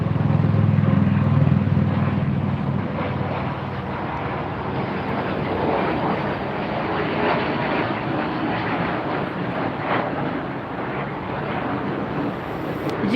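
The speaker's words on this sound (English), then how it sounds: "There goes a little mosquito jet" A small jet passes at LAX with a steady, moderately loud engine roar that fills the whole stretch and swells slightly at the start, while a voice speaks briefly nearby.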